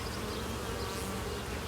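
Honey bees buzz steadily and continuously at close range as frames are handled during an inspection of small mini-plus hives with virgin queens, a dense droning hum with no talk.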